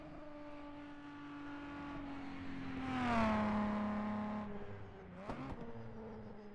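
A 2-litre class race car on the Isle of Man circuit approaches with a rising engine whine, passes close and loud with a falling Doppler pitch, and fades off, followed by a brief clatter.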